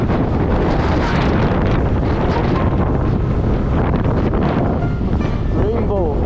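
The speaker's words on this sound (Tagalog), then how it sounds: "Napakalakas ng hangin mga idol." Strong gusting wind buffets the microphone with continuous loud rumbling and roaring along a coastal road trip, while a voice talks faintly underneath.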